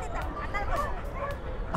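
Great Dane at the Mysore Dasara dog show on JK Grounds, with a few short barks rising over steady crowd chatter and hubbub close by.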